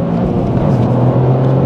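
A Toyota GR Corolla's turbocharged engine pulls through a short acceleration, a loud, steady engine drone rising gradually in pitch, heard from inside the car without talk.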